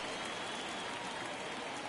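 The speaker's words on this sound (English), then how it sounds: "you can feel this crowd waking up a bit here" A baseball stadium crowd in MLB The Show 22 on PS5 cheers in a steady, dense roar of applause and murmur. It holds loud and constant for the whole stretch, with no distinct voices standing out.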